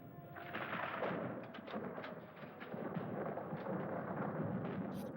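Thunder from lightning rolls in a faint, distant rumble with a few sharper cracks inside it, and it builds and lingers for several seconds.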